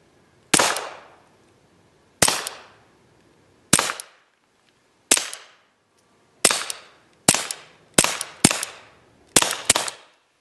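Shots from a Ruger SR22 .22 pistol at an outdoor range, ten sharp cracks spaced about a second apart, several coming in quick pairs toward the end, loud and close, each with a short decaying tail and no talk.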